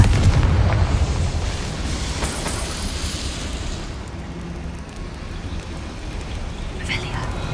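Confringo fire spell in Hogwarts Legacy bursting into a loud, booming explosion at the start, then rumbling down into a sustained crackling roar with a few sharper pops, voices talking over it.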